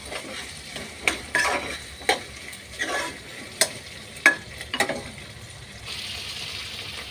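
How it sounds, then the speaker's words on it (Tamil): Vegetables for vegetable rice sautéing in a pan, a low steady sizzle with repeated sharp scrapes and clacks of a spatula stirring, spaced irregularly about once a second. "நல்லா எல்லாம் கிளறி விடுவோம்."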